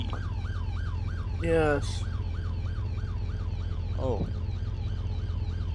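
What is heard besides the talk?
emergency vehicle siren in Roblox Ultimate Driving video game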